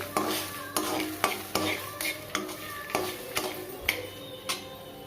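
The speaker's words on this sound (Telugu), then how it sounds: "దంచుకున్న వెల్లుల్లిపాయ రొబ్బలు వేసుకోవాలి వేసుకుని బాగా వేపుకోవాలి ఇలా కలుపుకుంటూ వేపుకోవాలి" Crushed garlic cloves frying in a pan while being stirred, a steady sizzle broken by regular metallic clinks of the spoon against the pan, close and fairly loud.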